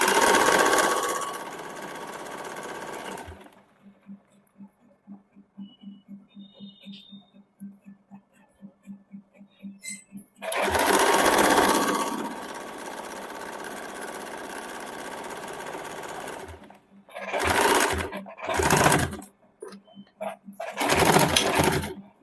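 A sewing machine runs in bursts while stitching a side seam of a suit in a beginner sewing class, loud whirring runs broken by short pauses, with a voice speaking in the quieter stretches.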